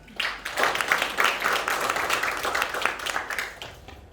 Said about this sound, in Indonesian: Ada tepuk tangan juga Bas.